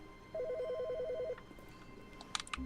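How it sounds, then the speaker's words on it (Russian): A telephone rings in the video game The Stanley Parable with a rapid warbling electronic trill lasting about a second, followed by quieter clicks and a few sharp electronic beeps near the end. "Телефон? Звонит."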